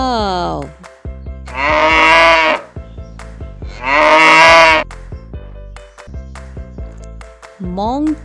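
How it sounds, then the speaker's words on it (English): A cow moos twice, long loud drawn-out calls standing alone against a quiet background, with shorter animal calls at the start and end. "cow"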